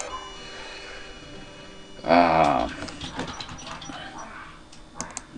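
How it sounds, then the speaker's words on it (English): In the video game King's Quest VI, dogs give a loud burst of barking followed by fainter whimpers and small mechanical game noises against a steady background hum. "Damn dogs."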